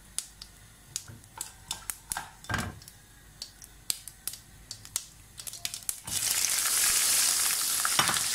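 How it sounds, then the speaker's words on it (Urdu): Mustard seeds are dropped into heated mustard oil for fried green chillies, first crackling and popping in sharp separate bursts, then breaking into a steady loud sizzle for the last couple of seconds. "تھوڑی دیر کے لیے اس میں فرائی کرتی ہوں"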